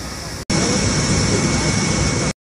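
Steady, loud broadband roar of an aircraft engine in a plane about to fly to Doha, running continuously for about two seconds after a brief cutoff, then stopping abruptly.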